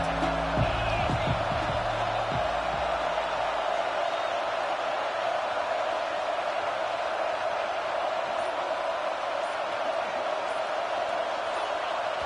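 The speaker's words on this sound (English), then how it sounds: "And with this place rocking, the crowd forces a false start." Loud, steady roar of a packed football stadium crowd, a dense continuous wash of voices and noise holding level throughout, with a few low thumps near the start.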